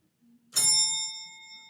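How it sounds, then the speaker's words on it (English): A single bell strike rings out clearly, a bright metallic ding that sustains with a long shimmering decay, alone in a quiet room after a faint brief murmur. "Will you please ring the bell?"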